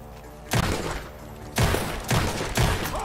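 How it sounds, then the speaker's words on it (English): Four loud, sharp gunshots ring out at uneven intervals from a barn in the video game Red Dead Redemption 2, each followed by a brief echoing tail, with no talking. "Gunshots are coming from that barn."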